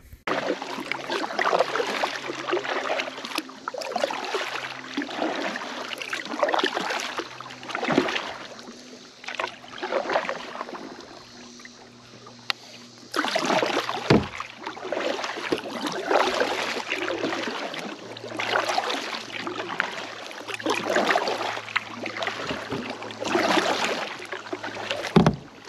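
An Old Town Bigwater 132 kayak moving across open water, with steady paddle splashes and water swishing in repeated strokes, plus brief quieter stretches and some wind on the microphone.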